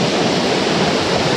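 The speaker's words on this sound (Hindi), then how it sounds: "पानी बहुत ही सही आ रहा है" Saveri Waterfall in Goa pours with a steady, loud, dense roar of rushing water, broadband and unbroken across the whole moment with no voices over it.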